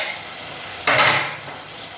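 Coriander (dhania) hits a pan of frying onions and tomatoes for khichdi, raising a sudden loud sizzle that swells for about half a second, then settles back into a steady low frying hiss.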